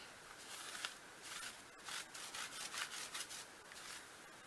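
Clean wipe rubbed across a crafting area to clear ink residue, quiet close-up scrubbing strokes in a quick back-and-forth rhythm, soft and intimate with no talking.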